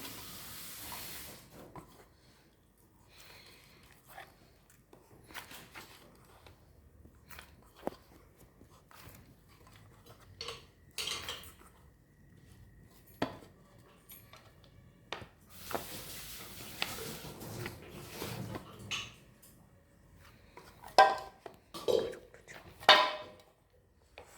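Fuchka dough being mixed with water in a bowl by hand, giving soft intermittent squishing, patting and scraping sounds that come in irregular bursts, close and quiet, with occasional light clinks toward the end.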